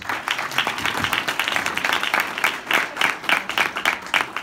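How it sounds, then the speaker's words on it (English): Sustained audience applause during a university keynote address, many hands clapping in a dense steady patter that stays loud throughout. "Can we give them a round of applause?"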